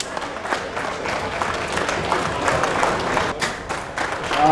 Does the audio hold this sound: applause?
yes